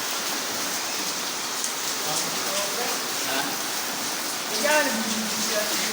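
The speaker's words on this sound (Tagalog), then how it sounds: "Ngayon naman ang lakas ng ulan." Heavy rain pours steadily in Makati as a dense, continuous hiss, with faint voices talking underneath.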